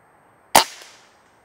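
A single sharp gunshot is fired at a target outdoors, loud and close, with a short fading tail and no talking.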